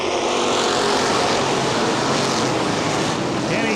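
Street stock race cars roar past together at Baer Field Speedway, a loud, continuous dense engine wash sustained throughout the short stretch.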